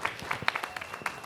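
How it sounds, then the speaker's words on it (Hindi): Applause breaks out at a Bollywood trailer launch, the crowd clapping steadily in a dense, lively patter with no talk over it. "एक बार जोरदार तालियां हो जाएं"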